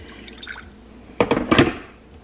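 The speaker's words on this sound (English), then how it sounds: "So here are my veggies into the pot." Vegetables are tipped into a pot of water on the stove, giving a short burst of splashing, wet plopping and clattering near the end after a quiet lead-in, with no talking.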